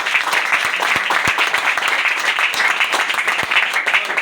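A crowd gives hearty applause at a company gathering, loud and close, with many hands clapping in a continuous dense roar and sharper individual claps popping out of it, no talking on top.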